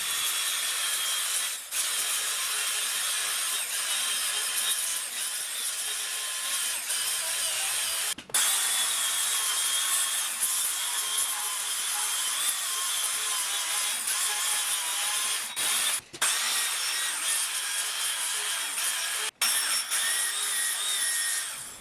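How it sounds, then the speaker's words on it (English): A narrow belt file sander grinds weld spatter off a custom steel grill for a 1959 REO Gold Comet car hauler truck, a steady loud high-pitched whir running continuously with a few brief dropouts. "I believe they call it a file sander or maybe a narrow belt sander."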